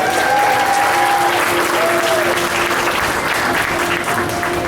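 Crowd applause at an outdoor dolphin show, loud continuous clapping from a large audience, with faint whistle-like tones drifting over it.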